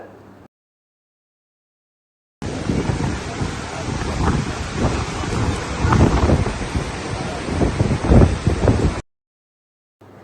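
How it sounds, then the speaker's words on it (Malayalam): Strong, cold wind roaring and buffeting close to the microphone at a seaside blowhole cave, Mughsail, for several seconds, a rough, gusting rumble with no talking. "നല്ല ശക്തമായ കാറ്റും തണുപ്പും നന്നായിട്ട് അനുഭവപ്പെടുന്നുണ്ട്"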